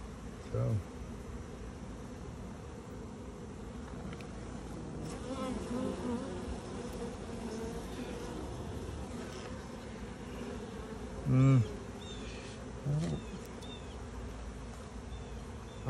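Honeybees buzz steadily around banana tree leaves outdoors, a continuous close insect drone with occasional louder passes as individual bees fly near.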